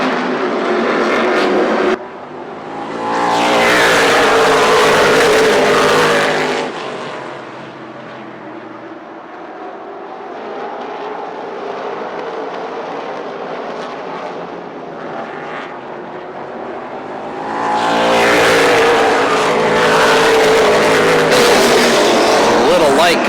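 Race cars roar past at Kalamazoo Speedway during a heat race, loud bursts of engines sweeping by near the start and again near the end, with a lower distant drone between them.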